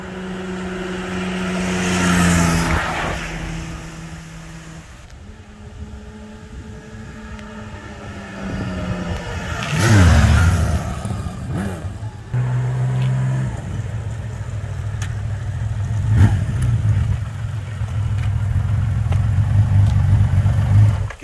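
Engine of a 1982 Honda CBX1100 six-cylinder double overhead cam motorcycle, shown at a motorcycle museum, running with a steady low hum that swells in a few revving surges, sounding close with no talk over it.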